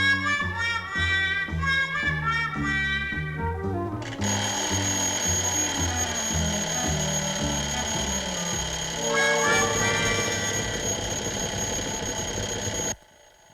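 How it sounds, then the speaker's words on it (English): An old alarm clock rings in the Fireball XL5 science-fiction series. After a stretch of music, a loud, continuous metallic ringing starts and runs for about nine seconds before cutting off abruptly. "the professor set that old alarm of his for 9:30. And there it goes now."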